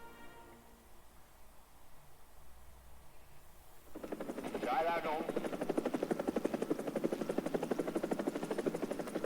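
A Huey-type Swedish helicopter in War Thunder starts up after a few quiet seconds, then settles into a loud, steady rotor chop with a rhythmic thump, heard close with no talk over it.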